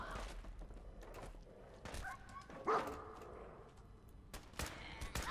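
Dogmeat, the dog companion in the Fallout 4 video game, barks a few sharp times amid scattered game gunfire and effects, with no talk over it.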